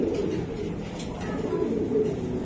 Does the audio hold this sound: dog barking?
no